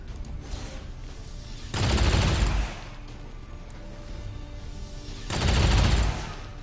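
XCOM 2 soldiers with the Long War 2 mod shooting: two loud bursts of automatic gunfire several seconds apart, each lasting about a second, with quiet between them.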